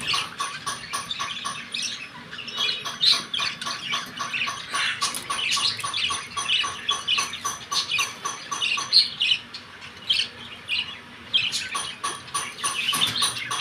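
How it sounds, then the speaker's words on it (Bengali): A pair of budgerigars with their chick give rapid, busy chirping and twittering, close and continuous, with no talking. "খুব ভালো একজোড়া পাখি পেয়েছি, এরা বসে আছে, বেবি নিয়ে বসে আছে"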